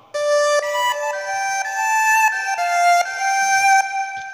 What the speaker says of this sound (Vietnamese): Tiếp theo Tèo sử dụng đó là tiếng đàn cò.